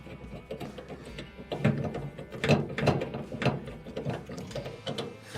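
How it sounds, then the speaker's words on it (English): A screw being tightened on a gas oven pressure regulator, heard as close metallic ratcheting clicks and grinding turns in uneven bursts. "let's start to tighten this the rest of the way down"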